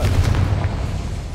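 A Confringo fire spell explodes in Hogwarts Legacy, a loud, close booming burst with rumbling low thuds that fades quickly into a lingering roar.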